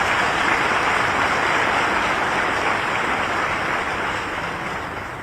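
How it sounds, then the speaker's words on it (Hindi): A large crowd at a government water-conservation event in Bhopal applauds, a loud, dense, sustained roar of clapping that slowly tapers toward the end. "एक बार आप भी तालियां बजा के पूरी टीम का स्वागत कीजिए।"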